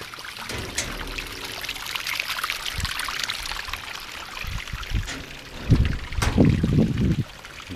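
Water splashes and trickles continuously from a small artificial cascade in Sudak, Crimea, with a few louder gurgling pours near the end.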